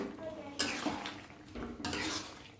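Pieces of fried fish are tipped into a pan of cooked ridge gourd curry, giving two bursts of clattering utensil and pan scraping with a soft stir between them. The sound is close and moderately loud, with no talk.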